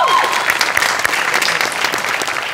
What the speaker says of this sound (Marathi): तर मेकअप दादांसाठी एकदा जोरदार टाळ्या होऊन